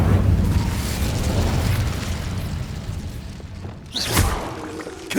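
The Incendio fire spell is cast in Hogwarts Legacy, a loud sustained whooshing roar of flame with rumbling lows, dipping briefly before a second fiery burst near the end, no talking.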